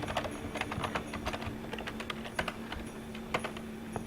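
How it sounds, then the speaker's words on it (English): Computer keyboard typed on during web development work, a quick irregular run of close, crisp key clicks over a low steady hum, with no talking. "I'm tired of typing all that out"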